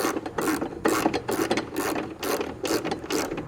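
A hand ratchet tightens bolts on a BedSlide sliding truck bed tray with T-tracks, giving short bursts of rapid, close clicking strokes separated by brief pauses.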